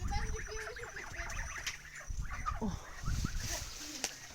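A goose in a village yard honks in short, fairly close bursts while people talk over it, mixed with shuffling and other farmyard noises.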